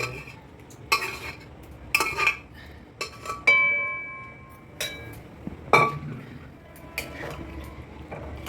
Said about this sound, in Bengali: পেঁয়াজটা ভাজা হয়ে গেছে এবার এর মধ্যে দিয়ে দিতে হবে মাংসটা